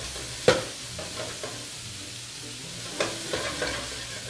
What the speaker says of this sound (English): we're going to take our andouille sausage and our ham, we're going to saute them off, and we're going to brown them in our skillet